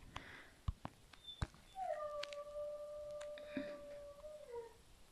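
A dog howls once in a long, wavering tone that rises then slides down, preceded by a few sharp clicks and knocks nearby, moderately loud against a quiet room.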